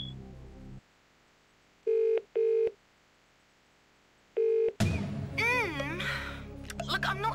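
Telephone dialing for the phone-a-friend lifeline in a Who Wants To Be A Millionaire DVD game: three short, clear keypad tones after a quiet pause, followed by a burst of rising game music and sound effects.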